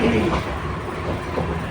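Low rumbling and clattering of a train, continuous and fairly loud throughout this short moment, at busy Kamalapur railway station in Dhaka.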